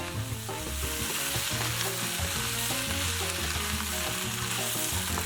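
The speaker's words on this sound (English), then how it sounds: "I stir them in and get them lovely and tasty." Bell peppers and shiitake mushrooms stir-fry in a hot pan, a dense constant sizzle with stirring scrapes layered on top, close and loud with no voices.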